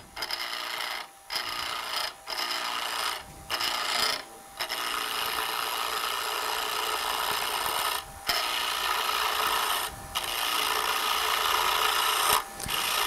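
Wooden bowl being trimmed and turned on a lathe, a loud continuous hard-wood scraping and rasping hiss of the cutting tool, broken by several short gaps where the tool lifts off.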